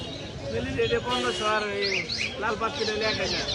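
Pigeons at the Mirpur-1 pigeon market, chirps and coos mixed with busy market voices, as people talk nearby throughout.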